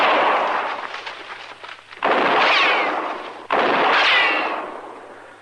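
Two loud gunshots ring out in a Western radio drama, a few seconds apart, each a sharp crack trailing into a long, rolling echo that dies away.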